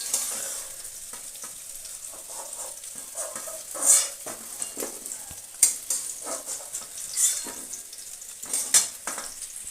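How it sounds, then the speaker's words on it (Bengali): Bay leaves and dried chillies fry in hot oil while making ghugni with mutton fat, giving a steady close sizzle broken by occasional metallic clinks and scrapes of a spoon stirring in the pan. "এবার আমি ওই তেলের মধ্যেই দুটো তেজপাতা আর শুকনো লঙ্কাটা দিয়ে দিলাম।"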